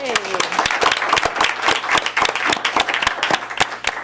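Audience applause for an elementary school student called to the podium at a school district board meeting, steady dense clapping throughout, with a brief voice at the start.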